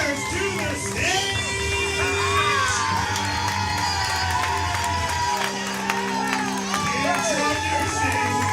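Crowd at a live event cheering and applauding, a steady roar of claps and shouts carrying on under music and voices for several seconds.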